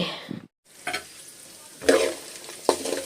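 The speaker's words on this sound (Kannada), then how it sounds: "ಸಾಸಿವೆ ಉದ್ದಿನಬೇಳೆ ಕಡ್ಡೆ ಬೀಜ ಎಣ್ಣೆ ಹಾಕ್ಕೊಂಡು ಫ್ರೈ ಮಾಡ್ತಾ ಇದ್ದೀನಿ" Mustard seeds, urad dal and peanuts frying in oil for upma, a close hiss with spatula scrapes and stirring knocks, broken by a brief silence.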